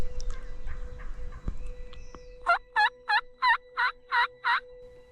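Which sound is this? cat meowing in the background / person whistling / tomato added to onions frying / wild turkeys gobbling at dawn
wild turkeys gobbling at dawn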